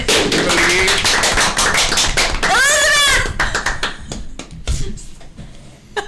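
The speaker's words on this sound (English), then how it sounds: "Perhaps if we just, like, clap our hands" A few people clap their hands in quick, sharp, uneven strokes, close and loud. A voice cries out briefly in the middle, and the claps thin out toward the end.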